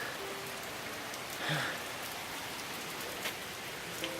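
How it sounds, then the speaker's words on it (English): Steady light rain patters in a continuous soft hiss, with a few faint drops standing out, and no voices. "it is still raining a little bit"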